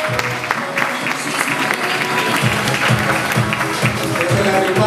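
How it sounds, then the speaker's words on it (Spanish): An audience at a casting event gives loud, sustained applause for the participants, a dense clatter of clapping close by and continuous throughout. "Y es así como recibimos con un fuerte aplauso a todos los participantes"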